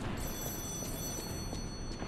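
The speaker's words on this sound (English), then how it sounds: "Phone call." A phone rings in the video game Lies of P: a steady, high-pitched electronic ringing tone runs through the whole stretch over a low, rumbling game background, with no talk.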